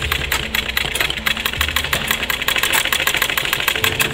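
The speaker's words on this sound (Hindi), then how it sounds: "ऐसे ही हमें पूरी ही सिलाई लगा लेनी है" A sewing machine stitches a designer sleeve for a suit or kurti with a fast, even run of mechanical ticks that carries on without a break, close and fairly loud.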